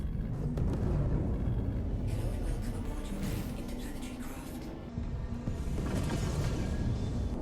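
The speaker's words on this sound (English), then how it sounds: "First, let's listen to the sound of the Corsair." Thruster hum of a Drake Corsair ship lifting off in Star Citizen, a low, steady rumbling roar with whooshing swells and a brief dip midway, continuous and fairly close.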